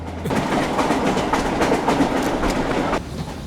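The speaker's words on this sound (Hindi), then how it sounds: "सर, सिग्नल रेड है, ट्रेन स्लो हो रही है सर" Train rolling on rail tracks as it slows at a red signal, a steady, loud rumble with rhythmic clickety-clack of wheels over rail joints, fairly close and continuous with no talk.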